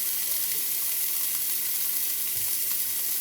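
Food sears in oil in a pan, giving a steady, loud sizzle and frying hiss with faint stirring scrapes, heard alone without talk.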